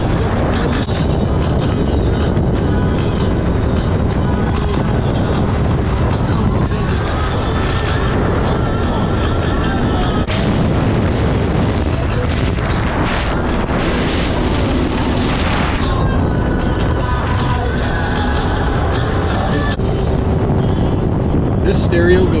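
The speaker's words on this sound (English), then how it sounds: "These speakers are cranked all the way up, and so is the ski for most of this ride" A supercharged Kawasaki jet ski runs hard across the water while its marine stereo blasts music at full volume, the loud music and engine roar blending into a dense, constant wall of sound with splashes and bumps.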